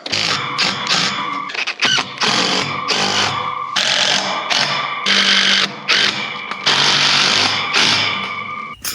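A power drill drives screws down into a custom wooden bridge being built at an outdoor shooting range, with loud bursts of whirring and squealing that start and stop repeatedly, close by and with no talking.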